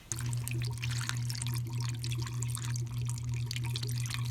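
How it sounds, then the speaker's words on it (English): Radiator flush liquid pours into the cooling system of a Toyota Celica, a steady trickling and splashing over a constant low hum, close and moderately quiet. "I'm going to pour in the flush"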